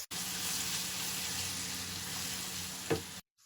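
Garlic ginger paste frying in a pan for beef achari gosht, giving a loud, steady sizzle that runs for about three seconds with a brief stirring scrape near the end before cutting out.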